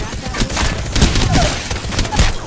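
Rapid bursts of gunfire from an online battle royale shooter match, loud and continuous with dense overlapping shots throughout.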